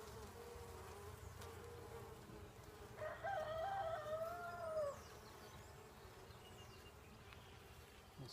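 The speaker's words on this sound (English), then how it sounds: "There's a bunch of bees under this." Bees buzzing beneath a wonky honeycomb during a beehive inspection, a steady low hum with a louder, closer buzzing swell midway, no voices.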